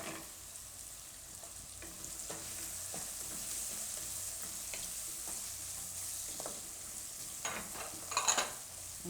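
Onion and sambar masala fry in a pan for vegetable upma, a steady close sizzle carrying soft stirring scrapes and a few louder clatters near the end, with no voices.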